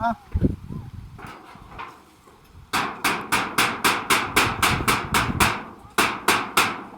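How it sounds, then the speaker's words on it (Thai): Someone hammers nails while repairing a bathroom door, a run of sharp, evenly spaced metallic blows close up, preceded by a few scattered knocks and handling noises. "ตอกไปตอกมา"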